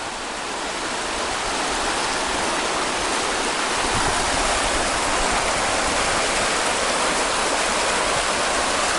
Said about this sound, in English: Streams like this everywhere.